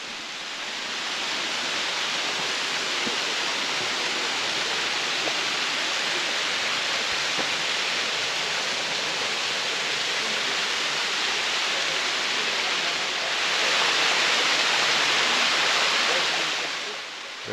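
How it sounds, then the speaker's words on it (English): Loud, continuous roar of Cataract Falls on the Blue Ridge Parkway, a dense unbroken rush of falling water heard up close, swelling briefly louder toward the end with no talk over it. "Roar of the water."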